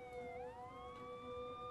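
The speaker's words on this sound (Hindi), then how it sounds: "पुलिस की गाड़ी का सायरन है, हम बुलाए हैं।" A police car siren wails in a steady, rising and falling tone, heard faintly at a distance and alone for a brief moment.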